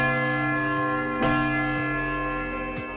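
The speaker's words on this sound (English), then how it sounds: "you definitely don't want to climb when the bells are ringing." Large church tower bells in Zadar, Croatia, ring close by in slow succession, each strike followed by a long, rich hum that hangs in the air.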